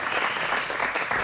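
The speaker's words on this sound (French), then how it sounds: "On peut l'applaudir, bien sûr." Studio audience applause on a French health talk show, a dense steady patter of clapping filling the short moment without pause.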